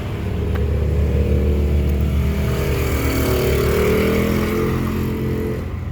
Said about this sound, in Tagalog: Oh, may motor.